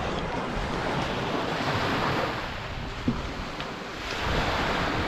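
Waves washing onto an empty autumn beach in Spain, a steady broadband rush of surf mixed with wind buffeting the microphone, with one brief knock partway through; no voices.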